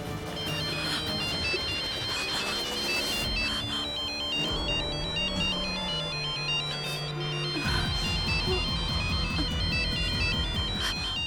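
A mobile phone ringtone plays a looping electronic melody, loud and continuous, over a backing musical score in a scene from an Indian drama series; nobody speaks.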